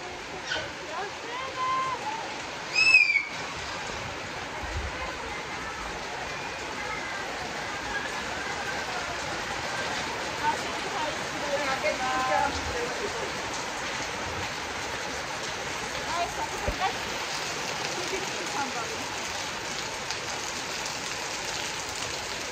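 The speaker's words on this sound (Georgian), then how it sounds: "ზედა როგორ წვიმა წამოვიდა" Heavy rain pours down steadily over a village in Georgia, a dense, continuous hiss throughout, with one sharp knock early on and occasional voices beneath the downpour.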